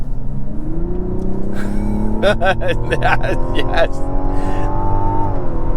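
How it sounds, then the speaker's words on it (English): The inline-6 engine of a Mazda CX-90 SUV accelerates, its exhaust note rising smoothly through a steady climbing drone with a snarly edge, loud and close, while a voice speaks briefly. "That is a nice, smooth, yet snarly sound you get from the exhaust."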